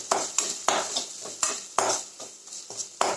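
Masala for Arachuvitta chicken gravy being stirred and sautéed in a pan, a quick run of repeated scraping clinks from a spoon on metal, close and rhythmic over a soft sizzle, with no speech.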